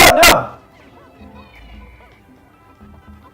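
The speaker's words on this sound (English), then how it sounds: "I'm sorry that my dog is so noisy." A dog lets out a sharp, loud bark right at the start, then falls quiet, leaving faint low whimpers and a soft voice under a quiet background.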